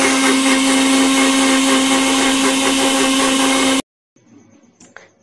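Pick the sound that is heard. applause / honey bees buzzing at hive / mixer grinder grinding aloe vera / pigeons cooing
mixer grinder grinding aloe vera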